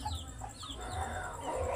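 Several two-week-old chicks cluck and chirp close by in quick, overlapping calls over a low background hum.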